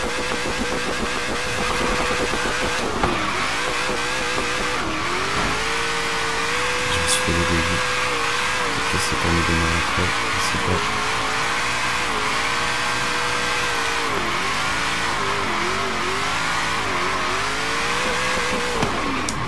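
A car drifting in the racing game Forza Horizon 3, its engine droning and revving with rising and falling pitch as the slide is held, continuous and fairly loud throughout.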